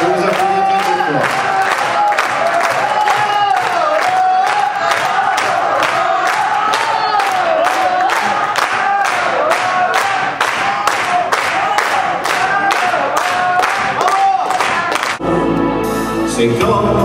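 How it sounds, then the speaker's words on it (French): An audience claps along at the end of a show in a rhythmic, steady beat, loud and close, giving way to a burst of freer applause and cheering at the end. "Je vous applaudis bien très fort"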